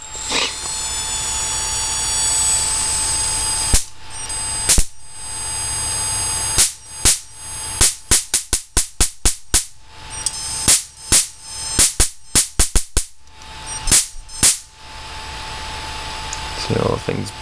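A high voltage capacitor discharges in a run of loud, sharp cracking snaps, first spaced apart and then in a rapid burst of bangs, over a steady high-pitched electrical whine and hum.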